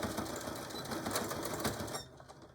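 Sewing machine stitching back and forth over a zipper pouch for a tool carry bag, a steady close whirring drone that stops abruptly near the end.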